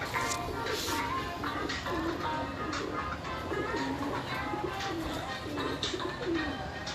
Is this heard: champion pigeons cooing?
yes